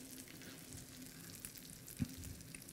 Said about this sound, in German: Lassen wir jetzt ein bisschen anbraten.